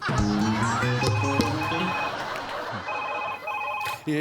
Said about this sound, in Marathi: फोन फोन आला